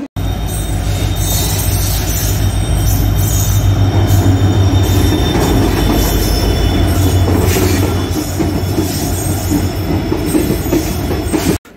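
Koyna Express train at Karad railway station, Kolhapur–Mumbai service, rumbling loud and steady with clattering wheels and metallic squeal throughout, close by and uninterrupted.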